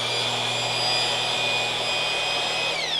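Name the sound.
mixer stirring synthetic stucco in a five-gallon bucket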